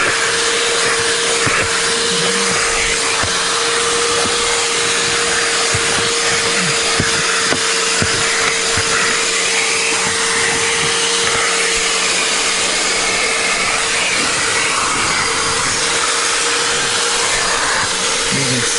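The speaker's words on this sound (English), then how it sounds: "So I turn the BISSELL on. Just like that. Start sucking it up." A BISSELL carpet cleaner runs loud and close throughout, a steady high-pitched motor whine with a constant suction roar and occasional rubbing against carpet.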